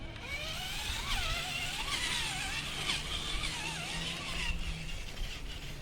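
A 2021 TRX-4 Bronco RC truck climbing a tree stump outdoors, its small electric motor whining and rising and falling in pitch as the throttle changes, close and continuous with tire scrabbling.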